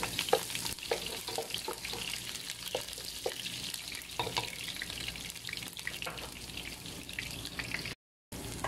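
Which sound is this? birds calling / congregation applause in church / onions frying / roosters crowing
onions frying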